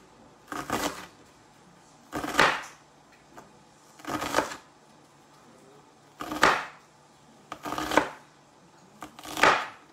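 Carrots and onions being chopped finely with a knife on a board for a veal blanquette, six separate bursts of rapid cutting strokes spaced about two seconds apart, close and clear with no talking.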